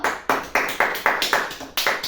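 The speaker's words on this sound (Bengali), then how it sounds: "এবার না, মিঠু কাকুর জন্য হাততালি গো" Hands clap for Mithu uncle in a steady, regular rhythm, about nine sharp claps spaced evenly, close by and clear with no talking over them.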